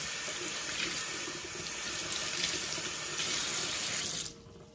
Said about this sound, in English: And I just ran cold water over them.